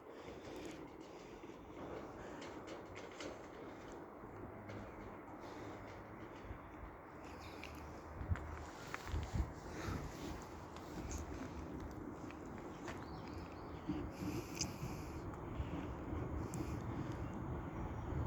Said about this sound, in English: the final train of the day will be a pairing of sprinters from Clitheroe to Rochdale